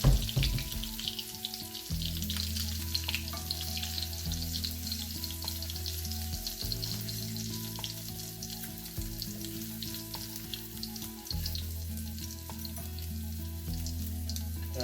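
Turkey patties fry steadily in hot oil, a continuous close sizzle with occasional crackle and faint stirring or utensil sounds, no voices.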